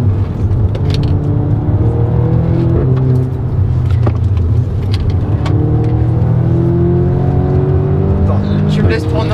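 An Audi S3 8V tuned to 300 hp with a Milltek exhaust accelerates hard, its loud engine note rising and steady from a cabin perspective, with people talking over it throughout.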